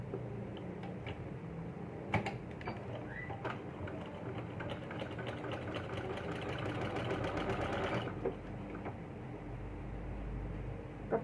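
A sewing machine runs in a steady, close ticking whir while stitching the back side of a baby yoke frock, continuing for several seconds before stopping abruptly, leaving a low hum.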